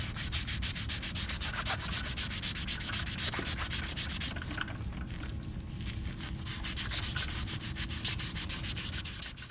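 A cable conductor, its LC shield and outer jacket are abraded by hand sanding. The rasping strokes repeat in a fast, steady back-and-forth rhythm with no talk.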